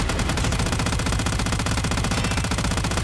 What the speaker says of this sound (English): Tenora is a new assault rifle, which features 2 firing modes, full auto